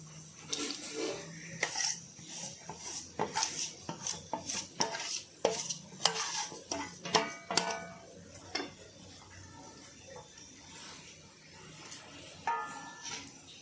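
Dates roasted in a pan being stirred together with roasted dry fruits, a close run of sharp metallic scrapes and clinks of a spoon against the pan, irregular and busiest early, with quieter pauses later.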